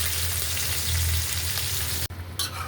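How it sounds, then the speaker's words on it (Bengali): Fish lightly frying in oil on a hot tawa, a dense close-up sizzle that holds steady, then a brief clatter near the end. "আমি মাছগুলো তুলতে দিলাম, হালকা ভাজা দিব যেহেতু গুলা করবো"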